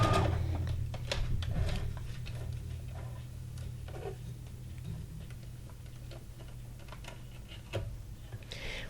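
A sewing machine stitches fabric onto cardboard, giving a quiet, quick mechanical ticking and whirring with small irregular bursts, heard up close.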